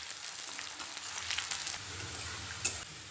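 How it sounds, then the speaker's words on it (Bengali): Chopped onions fry in oil with whole cinnamon, cloves, cardamom and bay leaves for a mutton curry, giving a steady close sizzle with a light clack near the end. "দিয়ে দেব পেঁয়াজ কুচি।"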